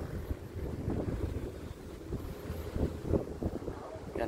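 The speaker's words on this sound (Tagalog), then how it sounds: "lakas po ng hangin." Strong wind blows across the microphone beside a 183-year-old stone bridge in the Philippines, a continuous buffeting roar with gusty low thumps and a faint voice underneath.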